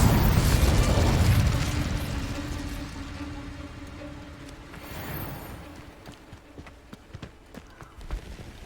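An Incendio fire spell goes off in the Hogwarts Legacy video game, a loud close burst of whooshing flame that quickly fades into softer crackles and small pops.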